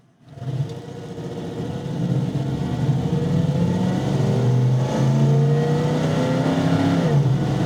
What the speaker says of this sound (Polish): jak przyspiesza Cadillac z silnikiem Lexusa